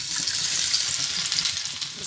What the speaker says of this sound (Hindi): घी मैंने गरम कर लिया है, इसमें अब लहसुन अदरक ऐड करते हैं।